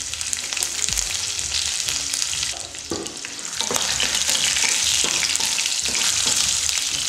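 Mustard seeds, urad dal and chopped green chilies fry in hot oil with a loud, dense crackling sizzle and occasional spoon scrapes as the mix is stirred, steady throughout and close up.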